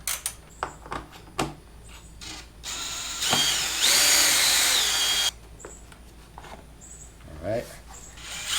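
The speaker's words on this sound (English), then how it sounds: "I'm going to go ahead and loosen them with my wrench just to make it easy." On a Suzuki DRZ400SM motorcycle, 8mm bolts are loosened with a wrench, giving several sharp clicks and taps at first, then a loud, steady buzzing whir lasting about two seconds, close up, with someone briefly speaking.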